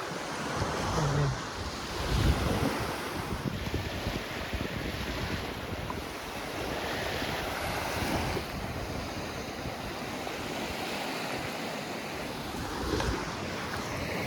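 Sea waves breaking at the shore in Lankaran, a steady, close wash of surf with heavy wind buffeting the microphone throughout.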